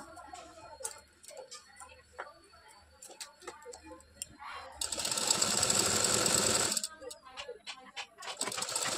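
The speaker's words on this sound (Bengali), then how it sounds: "তার জন্য আমি আর্মহোলের দিকে একটু গুটিয়ে নিয়ে এইভাবে ভেতরের দিকে করে আস্তিনটাকে এইভাবে নিয়ে আমি সেলাইটা করে নেব।" A sewing machine stitches a puffed sleeve into a garment's armhole, running in one steady, dense whir for about two seconds. Scattered ticks and light handling noises surround it, and a voice speaks at times.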